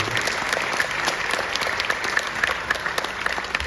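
A live audience at a Hindi stand-up comedy show claps in a dense, steady burst of applause that continues throughout, with no speech over it.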